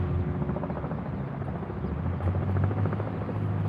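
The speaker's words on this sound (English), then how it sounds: "helicopter." A helicopter drones steadily throughout, its rotor thrum continuous and fairly loud as it passes overhead, with no speech over it.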